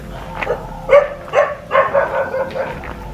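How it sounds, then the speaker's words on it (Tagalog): Several dogs bark in short, irregular bursts a few metres away, some barks sharp and others whining, over a faint rumble of background noise. "Tignan mo mga aso tol."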